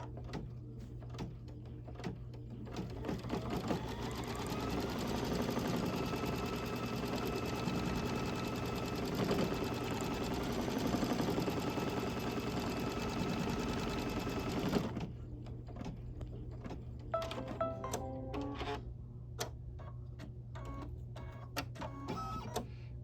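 A sewing machine stitches a tack-down on a quilt block in a steady, fast whirring run for about fifteen seconds. Then it stops, leaving scattered clicks and light handling noises.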